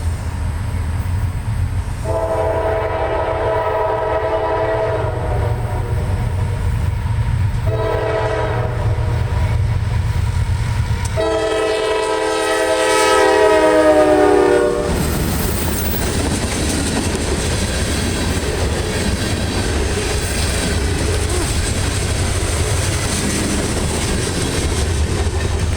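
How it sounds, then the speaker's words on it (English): A CSX local freight train heading westbound on the Charlotte Subdivision at Indian Trail, North Carolina, rumbles past loudly and steadily, sounding repeated long horn blasts before its heavy rolling cars take over. "CSX local train F792 heading westbound past Stouts on the CSX Charlotte Subdivision, Indian Trail, North Carolina"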